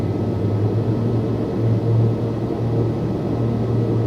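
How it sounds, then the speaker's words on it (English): A Piaggio P180 turboprop engine spooling to flight idle in MSFS 2024, a steady droning hum with a low tonal whine holding evenly throughout, loud and continuous with no voices. "Okay, bring that up to flight idle."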